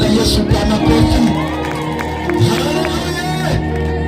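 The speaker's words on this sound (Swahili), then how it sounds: "Tumshangilie Bwana Yesu kwa makofi." A church congregation at a thanksgiving service in Rushe village, Karagwe, Kagera, cheering and whooping in praise, with loud overlapping voices and shouts that rise and fall close by.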